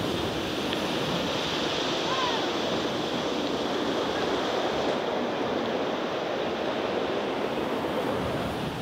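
Giant ocean waves and strong wind at sea aboard a tall ship make a continuous loud roar of surf and gusts that never lets up, with no voices.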